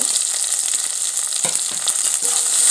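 Onion and tomato frying together with bitter gourd in a pan give a bright, continuous sizzle, close and fairly loud, with a few soft clicks of stirring mixed in.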